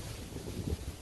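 Wind buffets the microphone outdoors in a cold, exposed spot, a low, rough rumble that stays steady through the brief moment with no voices.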